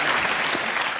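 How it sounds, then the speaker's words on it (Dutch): A studio audience at a Dutch comedy show claps in a dense, loud burst of applause for a guest's neighbours, a brief continuous wash of hand claps. "Applaus voor de buren van Janine!"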